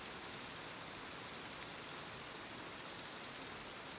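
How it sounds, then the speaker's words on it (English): Steady, dense rain falls on greenhouse glass, a close, even hiss of countless drops with no pauses and no voices. "The rain still moved over the glass."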